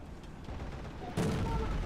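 Artillery spotting rounds landing in the War Thunder tank game, a low rumble followed by a sudden louder burst of distant explosive booms.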